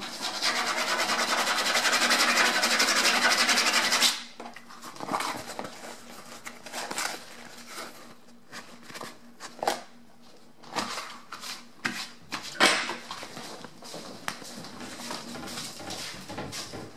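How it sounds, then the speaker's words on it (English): Blackout cloth being scraped off a screen with a brush, a dense, loud, continuous rasping scrape for about four seconds, then fainter scattered scratches and rubs. "you just scrape the screen"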